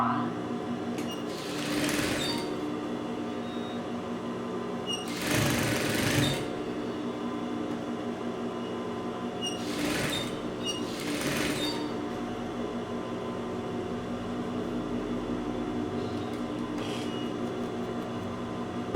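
A home sewing machine stitching a blouse, running in several short whirring bursts with pauses between, fairly close and moderately loud over a faint background hum.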